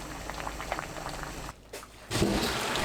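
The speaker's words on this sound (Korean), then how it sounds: "2분 후 가는 줄기 모두 넣고 센 불로 13분 익힙니다" Butterbur stems boil in a pot over high heat, a steady bubbling roil that dips briefly in the middle before returning louder and fuller.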